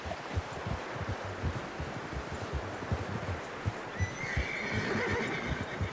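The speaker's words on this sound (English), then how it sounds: "How's that new horse?" Horse neighing in the video game Red Dead Redemption 2, a whinny rising over steady clip-clop hoofbeats and rustling, fairly close and clear, with no talking.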